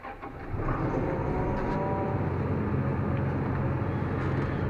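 A New Holland T8 410 HD tractor engine starts up, catching after a brief crank and settling into a steady, loud diesel drone with a low rumble.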